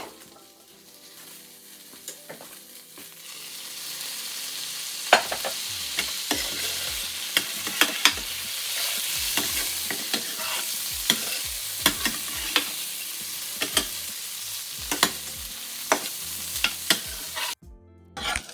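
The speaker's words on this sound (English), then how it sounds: "get a little bit of color on our sausage" Sausages (franks) brown and sizzle in a pan, the steady frying hiss building after a quieter start. Frequent sharp scrapes and knocks from stirring and turning the links sound up close, with no talking.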